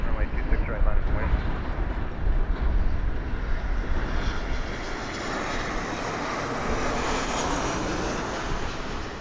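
A passenger jet lands at Harry Reid International Airport in Las Vegas, its engine roar loud and broad, then easing to a steadier rumble as it passes.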